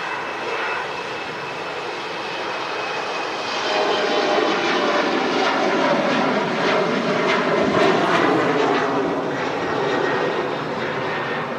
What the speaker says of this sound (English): I'm just looking at the approach path in from Palma and EasyJet A319 next.